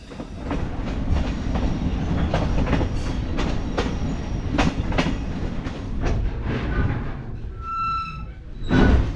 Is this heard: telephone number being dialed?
no